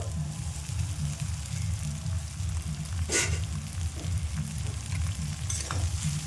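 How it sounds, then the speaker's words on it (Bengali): Boiled pasta tossed into a hot pan of cooked vegetables and stirred: a constant close sizzle with a few scraping stirs and a brief splash partway through. "এবারে সিদ্ধ করা পাস্তাগুলো দিয়ে দেবো।"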